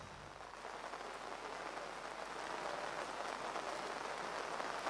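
Heavy rain falling steadily on surfaces in the hills during a search operation, a dense even hiss that grows slightly louder, no voices.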